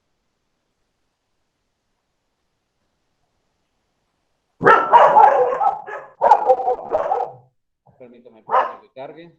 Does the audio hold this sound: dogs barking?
yes